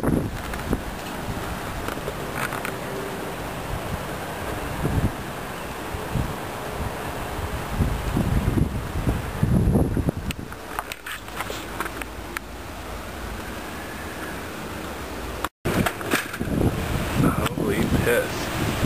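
Wind blows outdoors as storm clouds move in, a continuous low rumbling rush with gusts that buffet the microphone, swelling and easing over about nineteen seconds.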